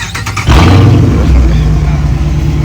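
A Dodge Charger R/T with 106k miles roars to life and revs loudly, a deep rumbling growl close by that holds steady after a brief noisy start.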